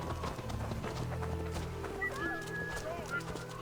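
Horse hooves clip-clopping at a run in the Assassin's Creed Valhalla video game, steady rhythmic footfalls with a brief whinny, under continuous talk and game sounds.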